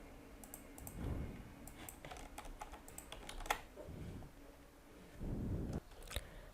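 A password being typed on a computer keyboard, with quiet irregular key clicks in short bursts over a faint room background and no speech.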